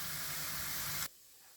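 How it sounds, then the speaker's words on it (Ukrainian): Garlic and vegetables sizzle while frying in a pan, making a steady loud hiss that cuts off abruptly after about a second, leaving faint room noise. "Зараз я це все обсмажу ще пару хвилин і потім буду додавати фарш."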